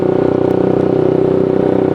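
A Suzuki GSX-S motorcycle engine running steadily up close, a loud even pulsing idle that stays constant with no revving and no voices.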